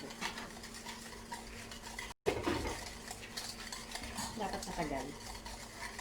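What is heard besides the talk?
stirring dalgona coffee mixture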